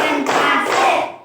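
Children clapping their hands together on a count in a classroom, a short burst of overlapping claps lasting about a second, near and fairly loud.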